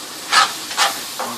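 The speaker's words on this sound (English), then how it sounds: "Hear that sizzling." Short bursts of hissing sizzle from a hot pan, three swells about half a second apart, the last fainter, with no talking.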